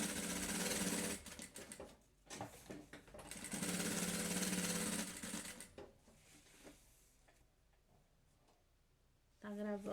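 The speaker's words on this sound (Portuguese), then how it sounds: "nós vamos ter que costurar a nossa alça ali de mão e também nas laterais as duas meia argola" A sewing machine stitching the handle of a fabric lunch bag, running in loud, rapid mechanical bursts with short pauses between them, then quieter stop-start stitching and a final burst, heard close.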